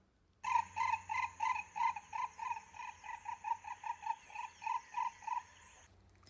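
A loud, rhythmic series of harsh, nasal green ibis calls, about twenty evenly spaced honks in quick succession, then fading out, with no voices.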